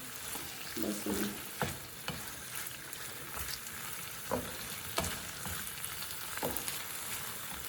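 Pizza topping frying in a pan, a steady sizzle broken by several sharp scrapes and knocks of a spatula stirring at uneven intervals, moderately loud with no one speaking.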